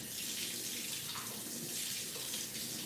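Steady stream of tap water running continuously as a kitchen utensil is rinsed off, a fairly loud, even broadband hiss with no talking.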